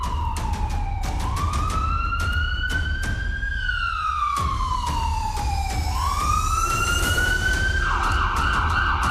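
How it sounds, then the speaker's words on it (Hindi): Wailing air-raid warning sirens sound across Lahore in Pakistan, several rising and falling tones overlapping loudly and continuously over a steady low rumble of traffic. "तो ये सायरन की आवाज़ें आप सुन रहे हैं।"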